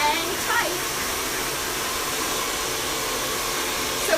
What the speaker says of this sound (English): Okay, over the dryer.